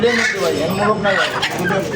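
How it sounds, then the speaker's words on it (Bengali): Indonesian-breed hens cluck loudly and close by, steady throaty clucking filling the short stretch without pause. "অ্যান্দোনেশিয়ানের একটা মুরগি দেখতে পাচ্ছেন"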